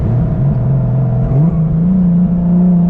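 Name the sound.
600WHP 1.5JZ Lexus IS300 engine revving and spooling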